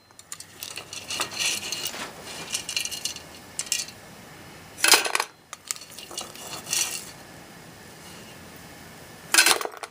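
Metal clips scrape and clink against a pot of molten lead as they are scooped out, with scattered rattling bursts and a couple of louder metallic clatters.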